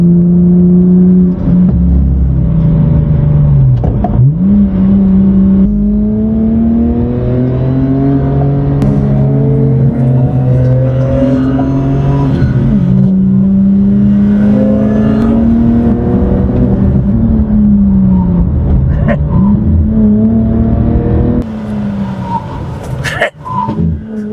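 A car engine revs up and drops repeatedly through several gear changes, with rising and falling pitch sweeps and blips between shifts, loud and close from inside the cabin, with brief talk near the end.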